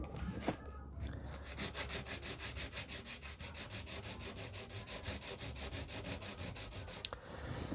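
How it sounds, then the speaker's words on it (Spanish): Hand sanding of a guitalele's wooden body, fingers pressing evenly on the paper: a steady, continuous rasping rub that runs close and loud from start to finish with a regular back-and-forth stroke rhythm and no talk. "Bueno, vamos a lijarlo."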